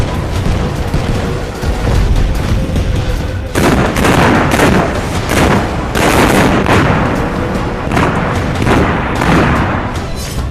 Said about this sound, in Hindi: पहाड़ों पर आग ही आग, धरती दहलाने वाले ब्लास्ट, हर धमाके से उठता धुएं का गुबार।